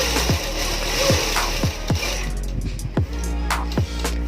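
A sewing machine stitches a patiala salwar in short mechanical runs with repeated clicking thumps, close and fairly loud, against a low steady hum.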